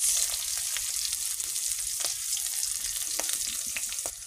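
Small pieces of fish sizzle and fry steadily in hot oil with onion, green chili, ginger and salt, a close, continuous hiss broken by occasional scrapes and taps of stirring, with no talk.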